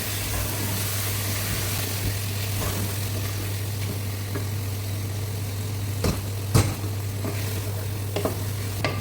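Spice paste for chicken gizzard bhuna with tomato and a splash of warm water being stirred and fried in a pan. The steady close sizzle runs throughout, with a few sharp scraping clacks of the spoon against the pan.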